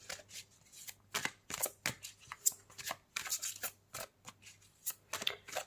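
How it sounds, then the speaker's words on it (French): Tarot cards are shuffled by hand in quick, repeated riffling bursts with brief pauses between them, close and soft. "je vais tirer plusieurs cartes"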